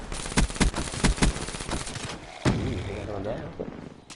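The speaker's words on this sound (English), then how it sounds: "I'm pretty sure there's rapid fire on this weapon" A rapid-fire weapon in a PS4 video game lets off a quick, evenly spaced burst of loud shots. A heavier blast follows, trailing into a rumbling, fading echo.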